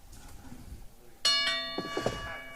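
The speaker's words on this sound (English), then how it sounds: "Ring the bell." A wrestling ring bell at a Halloween pay-per-view event clangs once, sharp and ringing, followed by a couple of quicker strikes, heard just after a faint murmur of crowd and voice.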